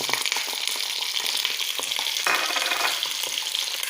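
Egg frying with shredded cabbage in a pan, a loud, close, continuous sizzle with stirring scrapes and a brief surge of hissing partway through.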